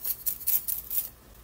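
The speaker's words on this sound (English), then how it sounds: "Take some scissors." Scissors snip through synthetic hair in five quick, crisp cuts, close and evenly spaced, then stop.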